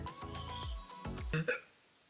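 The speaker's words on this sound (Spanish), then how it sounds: "Me dio hipo." A single hiccup from a Spanish-speaking presenter, a short voiced catch near the end of a brief vocal sound, close to the microphone and fairly quiet.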